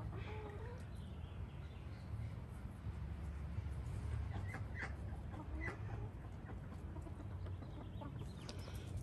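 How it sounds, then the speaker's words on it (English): Garden chickens cluck and murmur softly while pecking at discarded weeds, scattered short calls over a low outdoor rumble, faint and somewhat distant. "The best way to dispose of weeds is let the chickens get them."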